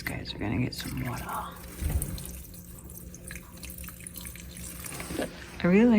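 Water pours and splashes from a watering can onto potted chili plants indoors, a short trickle amid brief spoken voices, ending with a louder burst of speech.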